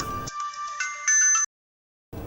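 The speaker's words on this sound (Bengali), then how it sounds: "আবার কে ফোন করলো?" A mobile phone ringtone plays alone, a bright repeating electronic melody with sustained tones for about a second before cutting off, followed by a brief pause.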